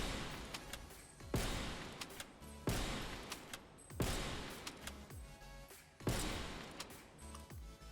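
Five heavy Pelington 703 sniper rifle shots from Call of Duty, fired unscoped at roughly even intervals about 1.3 seconds apart. Each is a loud, sharp crack with a decaying boom and faint mechanical clatter between shots, and no talking.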